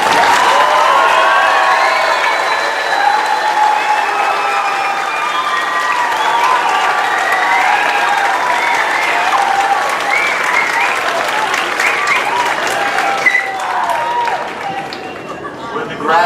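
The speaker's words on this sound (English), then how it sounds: "I'll go ahead and give him another round of applause." A large audience claps steadily at a spring college graduation ceremony, loud and dense for about sixteen seconds, with some crowd cheering and chatter mixed in before it tapers at the end.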